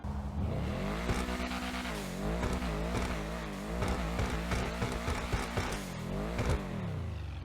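The Obey Tailgater car in GTA Online revs and accelerates, its engine note climbing and falling in repeated sweeps with gear shifts and a continuous loud drone throughout.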